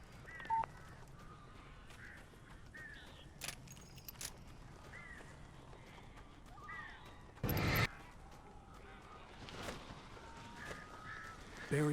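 Crows cawing in the Alan Wake video game, several short harsh calls scattered across a quiet ambient scene, with a loud burst midway and other faint game noises.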